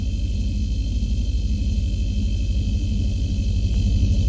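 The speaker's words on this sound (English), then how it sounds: "Hold starter until engine fires for maximum 10 seconds." The engine of a VSKYLABS Tensor600X aircraft in a flight simulator game runs steadily, giving a constant low, throbbing drone at even loudness with no talk.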